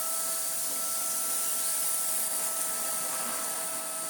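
A Numatic NBV190 vacuum cleaner on setting 1 with a heavy cordless powerhead floor tool on carpet: a loud, steady whooshing suction roar with a constant high whine, close up and unbroken, with no talk.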